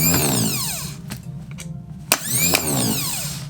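Renault 4 starter motor being restored, spun on the bench by bridging its solenoid with a screwdriver: a loud whirring whine that repeatedly winds up and down in pitch, with a sharp click partway through.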